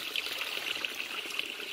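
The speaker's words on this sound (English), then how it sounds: "But it's a pretty nice piped spring." Water trickling from a piped spring along a hiking trail, a steady, soft, close splashing hiss with no talk over it.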